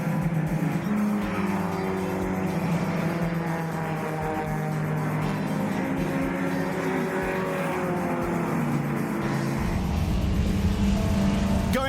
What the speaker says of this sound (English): Ilani Fonk is overtaking Morgan as they charge into turn 1